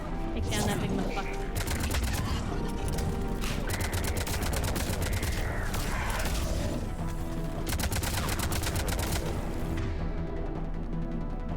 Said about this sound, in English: This thing's shooting me a lot.